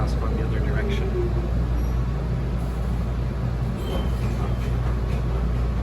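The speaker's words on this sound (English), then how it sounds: "That's the first train we've come across going the other direction." Tren Urbano metro train in Puerto Rico rumbling past in the opposite direction, heard from aboard a moving train as a loud continuous low roar with rushing noise and a brief squeal, no one speaking.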